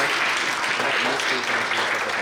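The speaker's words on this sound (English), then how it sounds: "can we just give this wonderful group of people a round of applause for being here" A seated group at a wellness leadership talk gives a round of applause, steady even clapping from many hands throughout, fairly close, with no voices over it.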